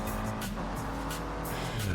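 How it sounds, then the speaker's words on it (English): Car engine roar in Forza Horizon 5 during a dune race, with a brief brake dab bringing tire squeal over steady, loud racing noise and other cars nearby. "I just dabbed the brakes to try and get ready for the corner"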